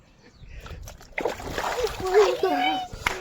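Children splash into a small makeshift water pool filled at home, with sloshing and splattering water close by under excited kids' voices and chatter.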